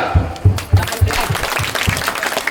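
An audience claps for children, a short burst of rhythmic claps that loosens into scattered clapping, heard close.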